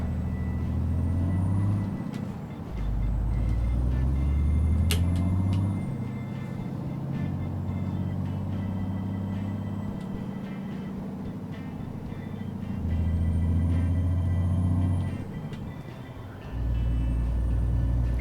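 Scania DC13 truck engine in Euro Truck Simulator 2, a loud continuous low diesel rumble that rises and falls as the revs change, with a hiss and a brief dip in the middle.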